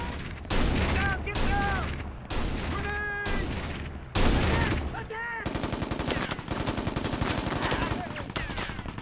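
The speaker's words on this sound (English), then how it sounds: "Time for some grenades." Gunfire and explosions ring out in the Mercenaries 2: World in Flames video game on PS2, with loud blasts and rattling bursts, then steady rapid automatic fire, and brief voices in between.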